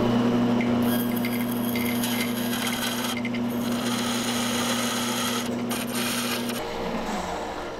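A bandsaw fitted with a metal-cutting blade slices through a brass ballast piece for a jerkbait lure, giving a steady loud motor drone with a constant tone and rasping cut that drops off near the end.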